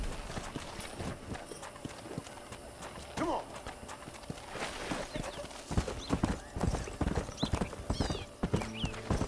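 Horse hooves clip-clop in Red Dead Redemption, a steady run of hoof beats with a brief whinny, heard under ongoing talk.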